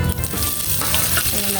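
A hotdog frying in a pan, loud and close, with a continuous crackling sizzle and brief stirring scrapes.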